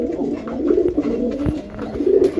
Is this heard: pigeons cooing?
yes